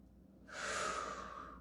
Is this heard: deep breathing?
yes